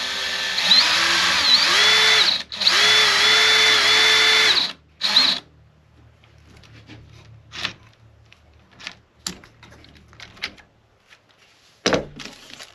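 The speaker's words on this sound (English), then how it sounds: "if we use the drill to drive it down there, it will just kind of melt its way into the wood" A power drill whines loudly in sustained bursts driving a pin into guitar wood, then stops; afterward come scattered sharp clicks and knocks, with one louder crack near the end.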